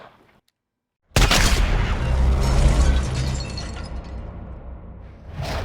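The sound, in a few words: gunshot fired through a wrong-caliber suppressor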